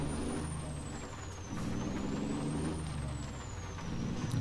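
Truck in American Truck Simulator, low engine rumble with a high, whining tone sweeping up and down and brief hissing air-brake releases over steady idle, close and fairly loud.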